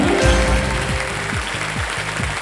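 Studio audience applause on the Hindi quiz show Kaun Banega Crorepati season 15, a loud steady wash of clapping over musical stings and rhythmic bass beats, with no voices heard.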